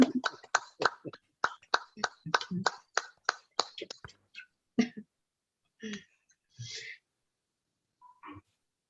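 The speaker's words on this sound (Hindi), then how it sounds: "एक बार जरा जोरदार तालियां बजा दें इनके लिए, श्वेता जी के लिए।" A handful of people clapping for Shweta after a meditation session, a quick run of sharp, sparse claps that thins out into a few scattered ones before falling silent.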